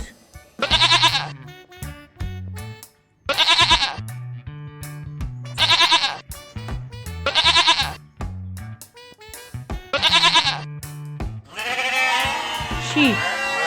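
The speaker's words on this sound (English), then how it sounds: "Goat." A goat bleats about five times in long, wavering cries spaced a couple of seconds apart, close and clear, ending in a rougher, noisier call.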